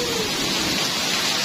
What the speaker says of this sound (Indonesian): deras banget hujannya